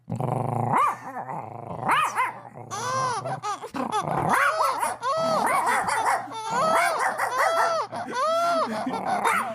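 A person's voice imitates a dog growling and barking, loud and close, with rasping growls and snarling yelps in quick succession and no ordinary speech.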